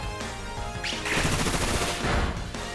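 Bullet Seed attack landing repeated hits in Pokemon Scarlet, a fast, rattling volley of sharp impacts over game music and effects, loud and close, with no talk.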